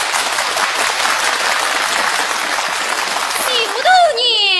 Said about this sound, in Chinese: 来，掌声欢迎2位。